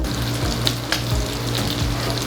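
Pork belly searing in a pan for dongpo pork, a loud close sizzle of hot fat with occasional sharp pops and a few shifting scrapes as the meat is turned, no voices.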